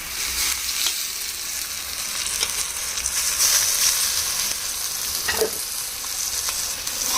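Curry leaves and coriander sizzle in hot oil for a Telugu-style garlic chilli fry, a steady close frying hiss with stirring scrapes throughout and no talk.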